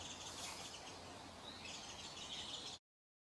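A male narcissus flycatcher in Southeast Asia sings a melodious whistled song, repeated phrases sounding faint and distant over a hissy, noisy background for almost three seconds before cutting off.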